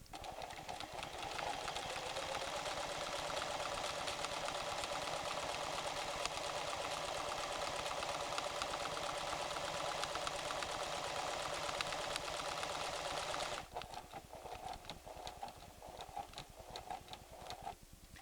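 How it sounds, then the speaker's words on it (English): A PFAFF creative 7550 sewing machine stitches a buttonhole, running as a steady fast mechanical whir for about thirteen seconds before it ties off and stops, leaving softer clicks and handling sounds. "The machine will sew the buttonhole,"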